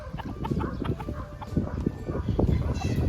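Chickens cluck and squawk in dense overlapping calls at a farm in Lipa, Batangas, a busy flock nearby and fairly loud throughout.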